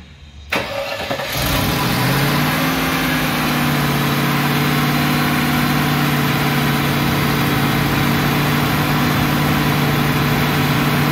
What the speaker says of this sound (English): this is the initial start after changing the throttle body